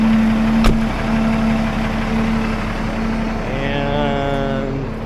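A 2010 Peterbilt 387 heavy-duty truck, set up as a motorhome and RV hauler, idles in neutral with the brake on. It makes a loud, steady low rumble with one sharp click near the start.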